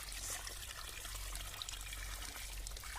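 A bucket of water is poured out during a cleaning day, heard as a faint, soft trickling and splashing stream running steadily under a low background hum with no talk.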